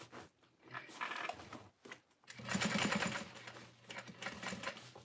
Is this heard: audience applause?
no